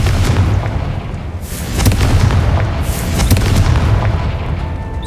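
The Confringo fire spell explodes in the video game Hogwarts Legacy: a loud, dense, continuous roar of booming blasts and crackling bursts fills the whole stretch.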